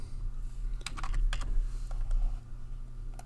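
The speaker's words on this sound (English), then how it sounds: "we could type in the expense report number" Keys tapped on a computer keyboard while entering an expense report number, a short run of light, quick clicks over a steady low room hum, close and fairly quiet.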